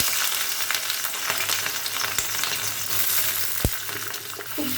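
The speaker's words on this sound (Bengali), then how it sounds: "এবার আমার তেলটা গরম হয়ে গেছে, ওর মধ্যে এগুলো ছেড়ে দিচ্ছি ভাজা হবে।" Kundri (ivy gourd) and potatoes frying in hot mustard oil, giving a steady close sizzle with light crackles and a few sharp spatters or utensil knocks, no voices.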